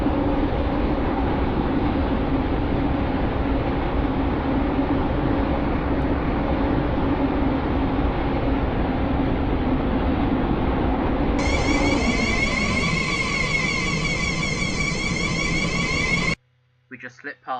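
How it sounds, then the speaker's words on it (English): A train pulls into a platform in the Stepford County Railway game, a steady loud rumble of wheels and motor running throughout, joined near the end by a high tonal braking whine before cutting off abruptly, with a voice talking over it. "The train now approaching platform 1 is the Connect service to Port Benton."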